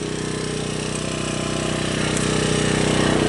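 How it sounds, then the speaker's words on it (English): A 4.5 inch angle grinder cuts into a grade 8 bolt with a loud, steady, close whine and gritty buzz that holds constant and swells slightly toward the end. "grinder was working"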